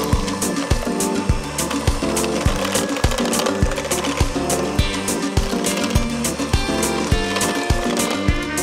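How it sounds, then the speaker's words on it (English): An electric hand mixer creams softened butter and egg yolks in a bowl for a coconut milk tres leches cake, a steady close buzzing whir with rapid rhythmic clatter of beaters against the bowl throughout, no voices. "cream the softened butter using the electric hand mixer as well."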